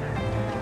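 Water flowing from a flat-back rain barrel through a short attached hose: a steady, close burbling gush with no breaks, heard for a brief moment.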